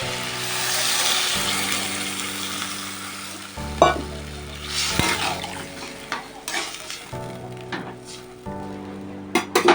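Silver carp fish masala sizzles in a pan and then takes a splash of water, loud frying hiss with spoon scrapes and metal clinks against the pan, and bursts of stirring toward the end.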